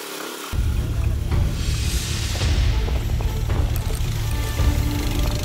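A Skylab motorcycle, its seat extended with plywood to carry more riders, rumbles along a bumpy, muddy road, a steady loud engine drone after a brief quiet start, with no talking.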